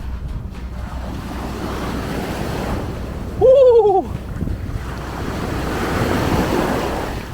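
Ocean surf rolls steadily onto Yangyang Beach in South Korea, a broad continuous wash mixed with wind noise on the microphone, broken by one short excited shout partway through.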